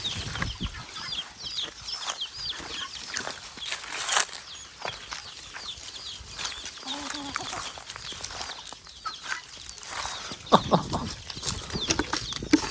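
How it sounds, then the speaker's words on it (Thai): Chickens cluck and chatter while feeding in a rural field setting, with several overlapping close-by clucks, some wing flaps and a few brief human sounds throughout. "ไก่กันมากินแซ่บ"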